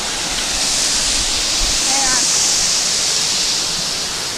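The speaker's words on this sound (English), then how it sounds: "Here's almost a full view of the waterfall." A 150 ft waterfall at Scag Falls roars as a loud, constant, dense wash of falling water filling the whole scene, with a brief voice barely audible beneath it.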